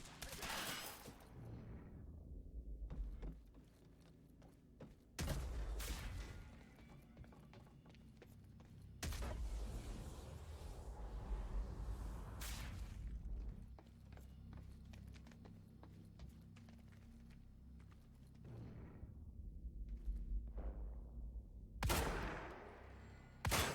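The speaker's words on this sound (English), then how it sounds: "Suppression fire!" Suppressive gunfire in the video game Quantum Break, sharp shots spaced irregularly among mechanical clatter and footsteps, fairly faint overall with a few louder cracks.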